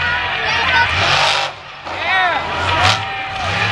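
John Seasock's Advanced Auto Parts Grinder monster truck roars through a freestyle run, its engine revving and surging loudly with a crowd-filled arena behind it, while an announcer talks over the noise.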